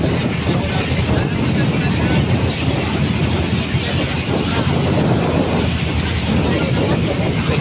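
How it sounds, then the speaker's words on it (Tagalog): Gusty wind and large ocean waves surge around a boat at sea, a loud, unbroken rumble and wash with rising and falling swells throughout. "ang laki ng alon mga idol"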